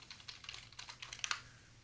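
Quick, quiet key presses on a computer keyboard as a password is typed at a terminal, a brief run of about a dozen light clicks in a close, quiet room.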